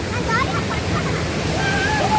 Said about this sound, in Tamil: கத கத கத கதன்னு ஊற்றுதுங்கப்பா, செம்மையாக இருக்குது.